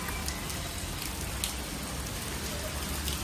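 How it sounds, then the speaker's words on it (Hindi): Heavy rain falls steadily outdoors, a dense, even hiss of drops spattering on surfaces close by, continuous and unbroken with no voices. "अरे इतनी बारिश में निकलना जरूरी था क्या?"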